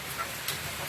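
Chickens kept in the upper room of a three-room coop give soft, brief clucks over a rain-like background hiss, with faint activity throughout.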